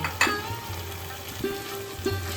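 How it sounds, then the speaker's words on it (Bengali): Fried potatoes tumble into a sizzling spice masala for paneer kaliya, a steady close frying hiss with a few soft stirring scrapes and clatters. "এবার আমি ভেজে রাখা আলুগুলোকে মিশিয়ে দিচ্ছি।"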